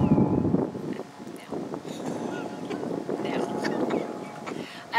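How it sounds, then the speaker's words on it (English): Wind buffeting a microphone outdoors on a moving cart, a rough low rumble with gusts throughout, and a voice talking faintly underneath. "Oh, the wind has kicked up. I hope there's not a lot of wind noise on this."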